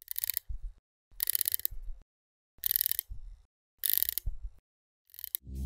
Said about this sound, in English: The bezel has a hollow, unsubstantial action.